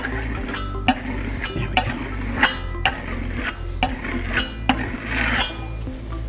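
A steel trowel scrapes and rubs across a black Grassello lime plaster finish in repeated rasping strokes with sharp scratchy peaks, close and steady, with a brief spoken remark.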